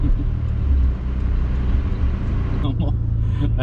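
Turbocharged Toyota Supra engine running steadily with a deep low rumble and a strong, constant level, sharper bursts near the end, and people talking over it.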